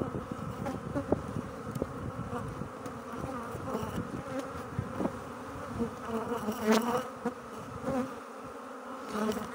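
Honey bees buzz densely around an open beehive frame, a steady close swarm hum with individual bees droning past, no talking.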